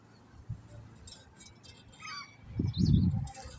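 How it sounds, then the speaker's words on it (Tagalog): Small birds chirping in a luxury village near Moscow, a few faint high calls scattered through quiet outdoor air, with a louder low rumble near the end. "marinig ninyo ang huni ng mga ibon"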